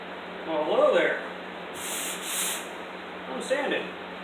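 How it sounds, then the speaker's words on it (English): Rough, steady rubbing strokes of sandpaper across cured car body filler on a 1991 Ford Mustang body, with brief muffled speech at the start and end. "I'm sanding. Still."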